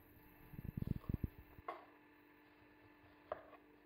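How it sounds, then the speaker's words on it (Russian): Fresh fruit such as pear, apple, orange and mango being sliced into thin rings of 2–3 mm with a knife, heard as a quick run of close chopping taps on a board, then a few isolated knocks. "Нарезаем фрукты колечками толщиной 2-3 миллиметра."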